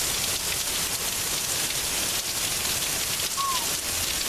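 Steady rain falling outdoors, a dense continuous hiss of drops hitting surfaces and puddles, close and even throughout with no talking.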